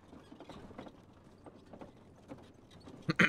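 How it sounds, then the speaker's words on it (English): Wooden wagon pushed along a road in Guts & Blackpowder, a faint rolling clatter with soft rhythmic knocks and creaks, ending in a couple of louder close bumps. "Now we got to push the wagon down the road"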